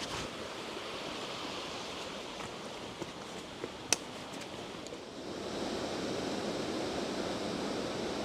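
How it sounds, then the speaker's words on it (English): Pecker Falls, the first waterfall on a rainy walk, gives a steady broadband rush of falling water throughout, fairly close and unbroken, with a few faint clicks and no talking. "so I'm at Pecker Falls, the first waterfall on the walk"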